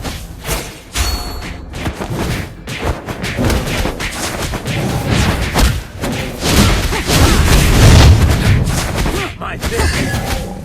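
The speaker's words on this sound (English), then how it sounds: "Your team destroyed a turret!" A turret is destroyed in a Mobile Legends match amid dense game combat effects. Repeated thuds, booms and crackling hits pile up close and loud, swelling toward the end.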